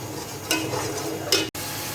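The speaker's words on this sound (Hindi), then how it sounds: "2 से 3 मिनट में प्याज के पेस्ट को अच्छे से फ्राई कर लेती हूँ" Onion paste frying in a pan at home while curry is being made, a soft steady sizzle with scraping stir sounds and two brief louder scrapes.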